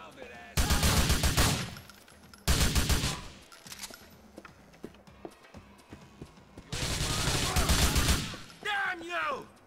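Video game gunfire in GTA 4 during a robbery of the Triads: three loud sustained bursts of rapid automatic fire separated by quieter gaps, with scattered single shots and brief game sounds between.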